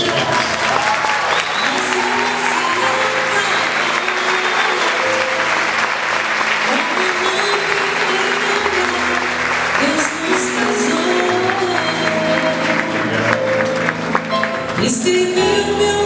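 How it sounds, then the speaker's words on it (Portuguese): Loud, sustained audience applause fills a live religious music event, dense clapping continuing steadily over background music with a brief surge near the end. "Uma salva de palmas."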